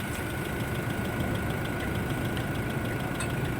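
A Toyota Innova's air-conditioning compressor, freshly topped up with Freon, runs alongside the idling engine as a steady, even mechanical drone with a faint high whine, constant and close throughout.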